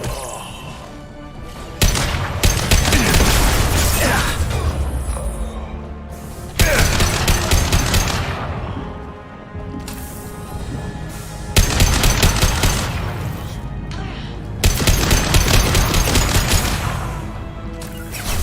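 Sustained automatic weapon fire rattles in loud, dense bursts of several seconds each, separated by short lulls, during a firefight in Mass Effect Legendary Edition.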